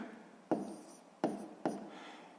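Handwritten numbers put down with a pen on paper in a math exercise: three short, faint taps each followed by a brief scratch of writing, close and quiet, with no voices.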